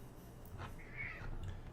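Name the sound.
cat meowing at a door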